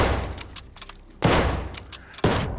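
Loud gunfire bursts in the Call of Duty Vanguard war game, three sharp volleys spaced about a second apart with rattling decays between them.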